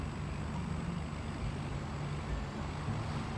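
Truck in the Farming Simulator video game, a steady low engine drone with a faint high whine held above it, continuous and unchanging at moderate loudness.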